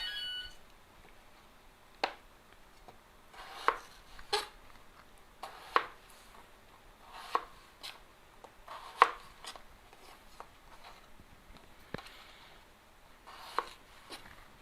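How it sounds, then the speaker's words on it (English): A knife chops potatoes into small pieces on a board, making crisp, evenly spaced knocks about one to two seconds apart against a quiet background. "I'm going to show you how to chop this one. We're going to chop them into small size pieces"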